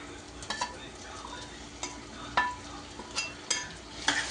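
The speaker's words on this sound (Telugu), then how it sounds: "ఇప్పుడు ఇందులో మిక్స్ చేసుకుందాం" Prawns are stirred into fried onions, green chillies and tomato in a pan, giving a soft continuous sizzle broken by sharp, irregular clicks and scrapes of the spoon against the pan.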